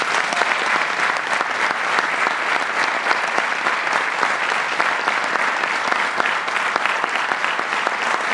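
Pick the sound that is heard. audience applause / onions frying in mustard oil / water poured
audience applause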